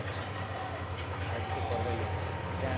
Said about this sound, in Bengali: এত ঘন ঘন ট্রেন আসে